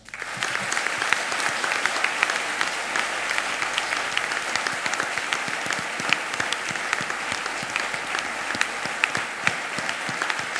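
A church congregation at a Methodist conference applauds young church workers, a sustained, dense roar of many hands clapping at an even level throughout, with no talk over it.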